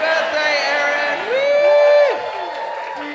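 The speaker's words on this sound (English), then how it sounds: "We'll say happy birthday, Erin, and give her a big cheer." A small audience cheers and whoops for Erin's birthday at a fursuit event, excited voices rising into sustained shouts and a high whoop before fading.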